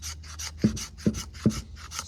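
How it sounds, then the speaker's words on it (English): A Condor Mountain Pass camp knife carves feather sticks from wood, three evenly spaced raspy scraping strokes close by and clear, with no talk over them. "we'll go ahead and get a few feathers of that off of here"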